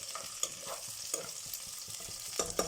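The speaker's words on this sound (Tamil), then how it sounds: "ஆனியன்ஸ் வதங்கட்டும், இன்னும் கொஞ்சம் வதங்கட்டும் ஆனியன்ஸு" Onions sautéing in a pan over a high flame for vegetable biryani, with a continuous close sizzle and a few sharp spoon stirs and scrapes, no voices.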